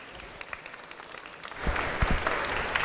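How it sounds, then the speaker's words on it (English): Audience applause for student election candidates running for Media Officer and Inclusive Sports Officer, live on D1 radio. It starts as a faint patter and swells into steadier, louder clapping in the second half. "Can you give them a round of applause, please?"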